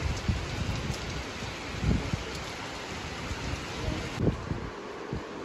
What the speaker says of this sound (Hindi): ये हो चुकी है काफ़ी तेज़ वाली बारिश, अभी आपको प्रॉपर दिख रहा होगा